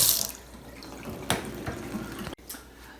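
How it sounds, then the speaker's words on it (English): Water rushes steadily from a kitchen faucet during a repair of the loose fixture, a close hissing flow broken by a couple of sharp knocks and clunks from handling the tap. "water's running."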